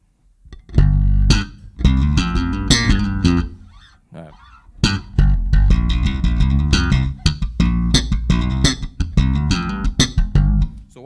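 A bass guitar played on its front pickup plays a funky run of plucked notes, deep and punchy, with a brief pause midway before the line resumes.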